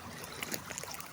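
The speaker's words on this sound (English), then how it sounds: "The creek." A creek trickles and burbles steadily in a logged woodland, a soft continuous rush of flowing water heard fairly close, alone with no voices.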